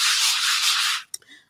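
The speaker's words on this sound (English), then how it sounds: "So we're just going to need to do a little bit of sanding back" Painted surface being sanded back by hand with soft, gentle strokes, a close, brisk rubbing scratch lasting about a second before stopping, followed by a small tap.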